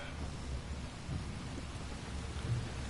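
Rain and rolling thunder in a video game, a steady hiss of rainfall over low rumbling thunder, fairly quiet and continuous with no voices over it.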